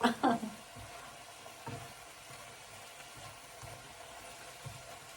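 Chicken and tomatoes fry and get stirred in a pan, with a brief louder burst of stirring at the start, then a low, steady sizzle and a few soft scrapes.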